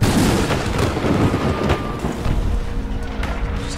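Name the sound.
artillery shells striking in a zombie video game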